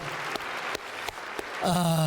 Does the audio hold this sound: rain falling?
no